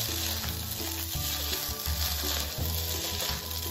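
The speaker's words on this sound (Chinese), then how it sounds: "一直拌炒至调味料收干，起火前将青葱与红辣椒丝加入，拌炒均匀后就可离火" Mackerel and rice vermicelli (bee hoon) stir-fried in a wok with seasoning, spring onion and red chili strips, giving a steady, loud sizzle with rhythmic scraping and tossing, no voices.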